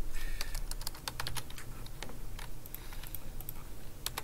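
Computer keyboard typing in a game programming lecture setting: rapid, irregular clicking keystrokes in bursts, close and clear with no talk over it.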